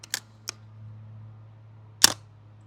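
Airsoft sniper rifle with gas, CO2 and spring power fired at a target: two faint sharp snaps, then a louder crisp crack about a second and a half later over a low steady hum.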